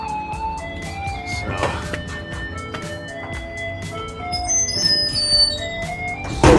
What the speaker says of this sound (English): this is the bread truck is coming.